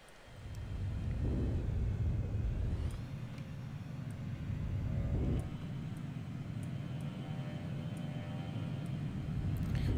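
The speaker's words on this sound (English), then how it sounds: "There's aircraft flying over here." Aircraft rumbling overhead in the transport simulation game Transport Fever 2, a steady low drone that swells and fades in waves across the whole stretch with no voices.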